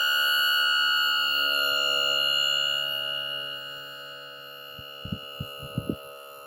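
A power trim unit raises a fishing boat's outboard motor with a steady electric whine that slowly fades, followed by a few soft knocks.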